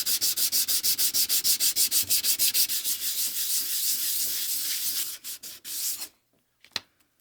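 Hand sanding the metal of a Stanley spokeshave to remove grind marks: steady rhythmic back-and-forth scratching strokes, close and loud, that slow and break into a few separate rubs before falling quiet.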